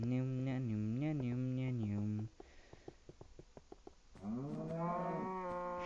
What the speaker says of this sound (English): Shut up, cows. No one likes you.